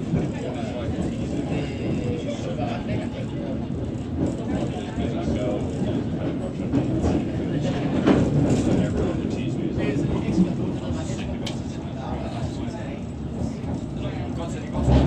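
A Hammersmith & City line Underground train runs along, giving a steady, dense rumble and roar from inside the carriage with faint rattles and clanks, holding a fairly even loudness throughout.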